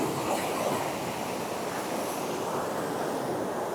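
Water rushes steadily at the Lota waterfall in Jharkhand, a broad continuous roar of flow with no breaks, fairly loud and close with no talk over it.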